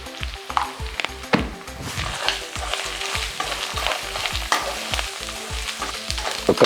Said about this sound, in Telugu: ఉప్పు కారం పచ్చివాసన పోయేంత వరకు వేయించుకొని